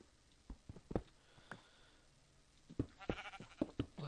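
Sheep bleats in Minecraft, a few short blocky calls scattered across the moment with soft footstep-like taps, fairly close and not overlapped by talk.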